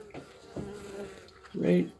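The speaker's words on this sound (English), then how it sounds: "you can see the little circle of bees around her" Honey bees buzz in a low, steady drone around the hive's brood nest during a hive inspection, with a louder, nearby hum rising near the end.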